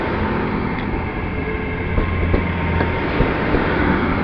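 A Great Western Railway service to London Paddington, units 802007 and 802002, pulls out of Plymouth station with a steady low rumble, faint wheel clicks and a few squeals, close and fairly loud.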